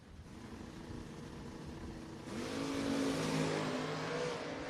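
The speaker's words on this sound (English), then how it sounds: "Great drag race between those two there." Two drag race cars launch down the strip at a no-box 660 shootout, engines droning at a distance before a louder surge of revving roar rises and holds, heard without talk.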